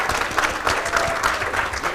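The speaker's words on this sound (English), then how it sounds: "Big round of applause to Bwana Joseph." Steady, dense clapping from an audience at a human rights defenders awards ceremony, a continuous patter of many hands at moderate volume.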